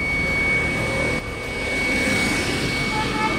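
An electric TVS iQube scooter with a fault gives off a steady, loud whirring whine with a high sustained tone, running continuously throughout with a brief dip partway through.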